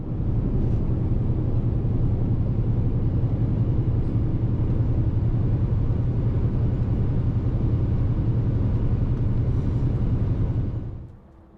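A Scania 770 S truck accelerates with a deep, loud, sustained engine rumble heard from up close, holding steady for about ten seconds before quickly fading at the end.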